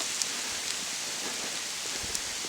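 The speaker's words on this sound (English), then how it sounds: "completely blue sky and hail falling" Hailstones fall under clear, sunny skies on a Mount Kearsarge hike in New Hampshire, a dense, steady patter of small icy ticks with a few sharper, louder hits, spread evenly and continuously with no voices.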